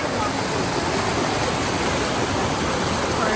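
Water pouring steadily over the Blue Water waterfall in Swat, a dense, continuous rushing roar that stays loud and unbroken throughout with no clear speech above it.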